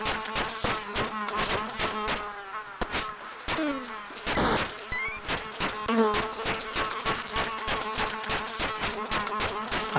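Bees in a video game give off a persistent insect buzz, broken by rapid, sharp repeated clicks and bursts, some rising and falling in pitch, over the full ten seconds.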